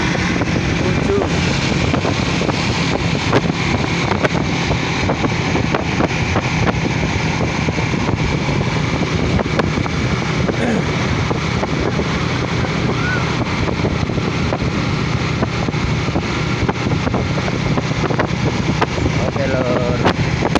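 Strong wind blowing outdoors at night: constant loud rushing and buffeting across the microphone for the full twenty seconds, with a low rumble underneath and no clear talking.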